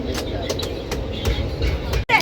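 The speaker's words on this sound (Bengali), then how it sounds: "আমাদের ট্রেন চলে এসেছে এবং ট্রেন ছেড়েও দিয়েছে" A passenger train pulls out of Burdwan station on a Howrah to Benaras trip, its steady rumble and rhythmic wheel clatter running throughout, with a brief sharp break near the end.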